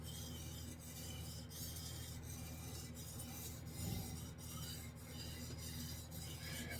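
A Japanese chef knife being sharpened on a whetstone, with faint rhythmic scraping strokes repeating roughly every half second over a steady low hum, no voices.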